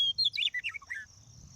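A bird gives a quick run of bright, high chirps that rise and fall several times in a short burst, close and clear over faint low background rumble.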